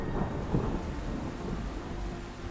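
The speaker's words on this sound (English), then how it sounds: "bringing with them thundery showers over many areas of the city" Thunderstorm over Kuala Lumpur, Malaysia, with steady rain and low rolling thunder rumbling throughout, a dense continuous wash of storm noise with no voices.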